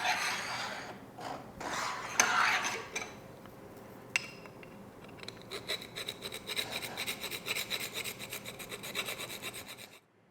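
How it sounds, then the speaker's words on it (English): A hand file rasps along the edge of a pressed metal runner piece for a table-saw miter sled's T-slot, a string of rough scraping strokes, close and fairly loud, with no talk. "Just took a file on the edge of this little piece that runs in the T-slot."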